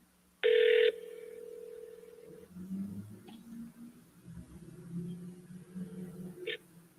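An outgoing telephone call ringing back through the handset, one loud ring burst followed by a steady lingering tone over low room hum.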